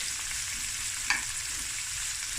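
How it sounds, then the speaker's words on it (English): Onions fry in a pan over medium-low heat, a soft continuous sizzle with a faint stir or spatula tap partway through and no talking. "So now we're going to just fry this on a medium to low heat"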